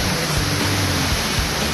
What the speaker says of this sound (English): And this is Zillie Waterfall, baby.